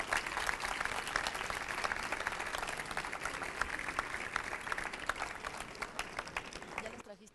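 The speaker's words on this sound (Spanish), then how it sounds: "Les pido por favor un aplauso nuevamente." Conference audience at a Campus Party video-game theory talk breaks into steady, dense applause that fills the room, continuous and fairly loud until it cuts off near the end.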